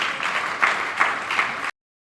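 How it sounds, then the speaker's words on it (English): An audience at a women's empowerment summit and exhibition applauds the president, a short steady wash of clapping that swells in a few pulses and then cuts off abruptly. "I thought Mr. President deserves a round of applause from this."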